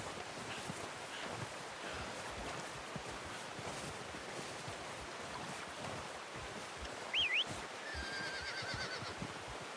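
A horse in Red Dead Redemption 2: hooves and movement over a constant outdoor wind-and-water wash, with a brief whinny-like call near the end, quiet and somewhat distant.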